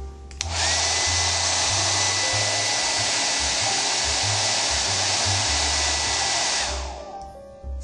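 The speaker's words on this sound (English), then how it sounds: "Insert the hairdryer and run at the hottest setting until the heat strip changes color" A hair dryer on its hottest setting blows steadily at full power for several seconds into a bed bug bag, a loud continuous whoosh with a high whine, then winds down and cuts off.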